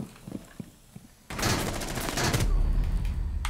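Gunfire in the video game Rainbow Six Siege erupts after a quiet opening with a few faint thumps, then rattles on as a dense, loud volley of rapid shots that keeps going to the end.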